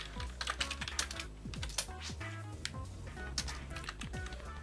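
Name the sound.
typing on a computer keyboard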